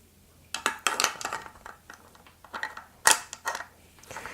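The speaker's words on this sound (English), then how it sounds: "Now you want to put the bolt in." Metal parts of a Mossberg 500 shotgun clink and click as the bolt is slid back in during reassembly, a close run of sharp taps and scrapes with one brighter snap partway through.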